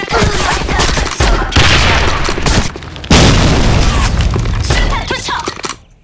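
A grenade blast in the shooter game Sudden Attack lands among dense gunfire, heavy booms and rattling fusillades filling the clip at loud level, with brief game voice barks mixed in before the noise fades out at the end.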